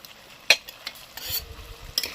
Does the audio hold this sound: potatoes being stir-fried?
yes